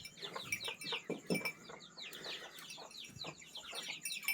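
A rooster left out overnight clucks repeatedly and fairly faintly in a Pakistani village at morning, its short calls mixed with other bird chirps and light clinking in the background.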